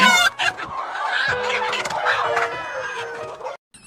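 Hens on a poultry farm cluck and squawk continuously nearby, several birds calling over one another in a busy, close chorus.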